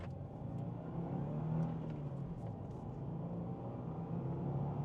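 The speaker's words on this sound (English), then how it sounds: "now we're gonna get in the WRX, drive manual, rev it up a little bit, little boxer action" A Subaru WRX with a manual gearbox and boxer engine hums and revs softly from inside the cabin as it pulls away, a faint, steady engine drone.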